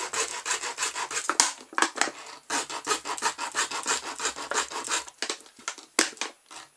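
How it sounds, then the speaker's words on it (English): A plastic bottle has its top cut off with a rapid, rhythmic rasping saw-like scraping, a dense run of close, loud strokes that pauses briefly midway and again near the end. "Right, we're just cutting the top off this bottle."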